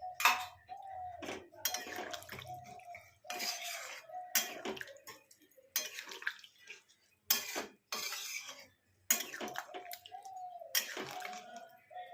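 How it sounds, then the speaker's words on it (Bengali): A metal spatula is rinsed with water in a home kitchen, with splashing bursts, clinks of metal against pots and steady running water, all close and repeated in an irregular rhythm with no talk. "এই খুন্তিটা ধুয়ে জল দিলাম"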